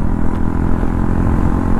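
Motorcycles pass by on a highway with a loud, sustained engine roar and a slight rise and fall in pitch, close and continuous, with no talk.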